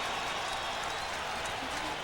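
Crowd noise in Texas Stadium during a 1998 Panthers at Cowboys NFL game, a continuous distant roar of cheering with no clear breaks.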